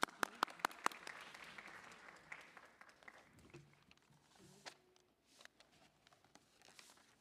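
Audience at an inter-municipality debate applauding, a few sharp, loud claps up front giving way to faint, scattered clapping and rustle that thins out over several seconds.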